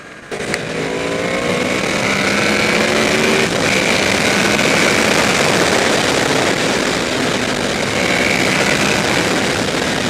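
A 2014 Honda VFR800F V4 motorcycle engine revs up as VTEC engages, a rising, raspy howl, loud and close, holding a steady high-rev drone with wind rush throughout.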